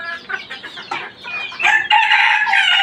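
Silkie chickens cluck in quick, close bursts before a loud rooster crow rings out and holds to the end, clear and near with no talk.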